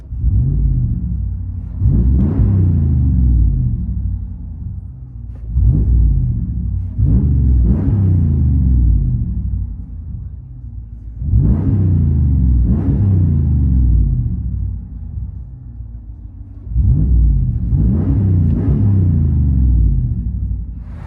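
Deep 2017 Ram 1500 5.7L Hemi V8 exhaust with a Black Widow system rumbling from inside the cab, revved hard in four repeated bursts that settle back to a throaty idle between them.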